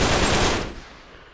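A short, loud burst of rapid gunfire from Uncharted 3 cracks out, then trails off into a fading echo within about a second.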